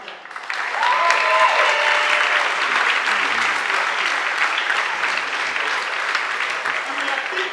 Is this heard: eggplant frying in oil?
no